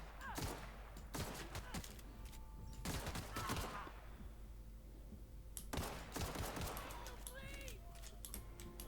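Gunfire in The Outer Worlds: bursts of shots come in clusters, some rapid and rattling, with pauses between them, set against a steady low game hum, while voices talk over parts of it.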